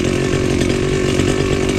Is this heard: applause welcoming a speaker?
no